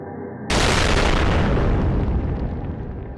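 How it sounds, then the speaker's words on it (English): A sudden, massive explosion of dark energy blasts through a magical northern barrier, bursting in loud and full after a faint hum, then rumbling on with a long, slowly fading roar. "An explosion of dark energy tears through the northern barrier."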